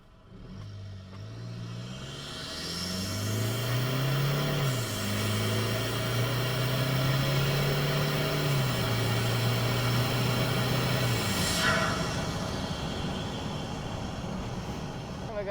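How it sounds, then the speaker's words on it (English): Turbo induction whoosh and whistle rise over the engine drone as a car fitted with a GTurbo upgrade accelerates. The engine note climbs and steps through the revs, loud and close from inside the cabin. "I wonder if you guys can hear that induction noise."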